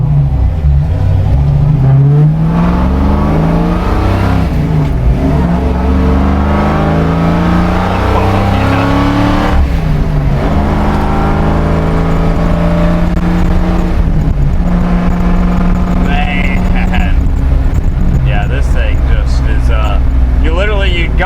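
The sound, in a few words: 1959 Edsel with Cleveland engine and manual transmission driving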